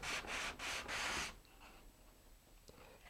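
Sanding the bevelled balsa wing edges of a Cirrus Breeze rocket glider, three quick back-and-forth rasping strokes close by, then the rubbing stops, leaving a quiet room with a faint tap.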